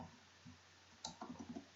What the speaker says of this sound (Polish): Eee, prawy shift wciśnij.